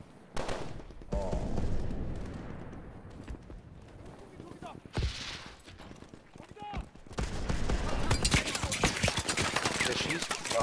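Call of Duty: Advanced Warfare combat with scattered gunshots and bursts of automatic fire, mixed with impacts and effects, while a voice talks over the action.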